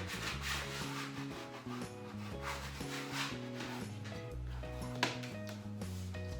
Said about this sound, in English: now I need to use the scraper